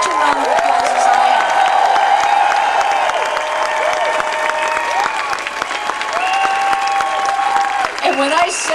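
An audience applauding a speaker at a rally addressed to President Obama, dense sustained clapping and cheering in a large crowd, with a voice speaking over it throughout.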